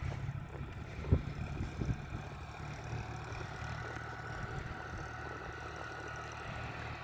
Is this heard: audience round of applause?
no